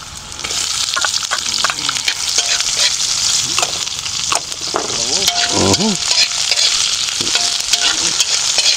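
Onion and ginger sizzle loudly in a hot pan at an outdoor farm cooking spot, a steady frying hiss broken by scraping stirs and clatters, with a few faint tonal squeaks midway.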